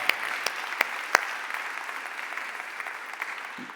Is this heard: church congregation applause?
yes